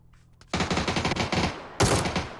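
Loud, rapid bursts of automatic gunfire in a shooter video game. A short volley starts after a brief quiet lead-in, then a second sharp burst cuts in near the end, close and dense with no talk.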